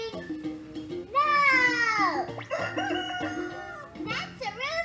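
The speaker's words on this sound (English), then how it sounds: "That's a rooster!" A rooster crows a loud, drawn-out cock-a-doodle-doo up close, followed by a shorter second crow, with a voice babbling underneath.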